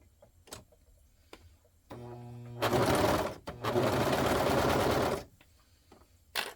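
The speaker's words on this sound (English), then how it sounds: "Sew together where pinned." A sewing machine stitches pinned boxer-shorts fabric with a close, steady mechanical whir in two bursts of about a second and two seconds, separated by a brief pause, with light clicks and handling before and after.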